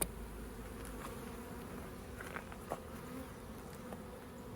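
Honey bees from a swarm trap buzz steadily and close up, a dense continuous drone with a few individual insects passing nearer.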